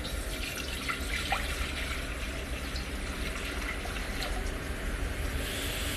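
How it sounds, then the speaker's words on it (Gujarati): Water runs steadily into a cooking pot for rice, a continuous close splashing and gurgling pour with no pauses. "તેમાં આપણે પાણી નાખીશું।"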